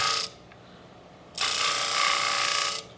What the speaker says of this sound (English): You don't have to have a disc sander like this.